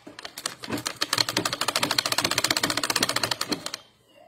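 A sewing machine stitches elastic onto a cloth face mask, a close, rapid run of sharp mechanical clicks that speeds up into an even rhythm and then stops abruptly.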